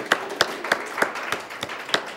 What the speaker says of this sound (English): Give Golden Gate High School students a round of applause.